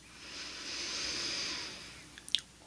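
A slow, soft inhale through the nose in a guided breathing exercise, a steady airy hiss swelling and fading, then a brief sniff at the end.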